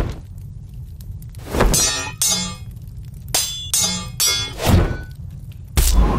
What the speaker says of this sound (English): I don't like this specific heavy sword sound